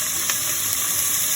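Onions frying in a pan with salt, giving a steady close sizzle and hiss throughout, with a faint scrape of stirring and no voices.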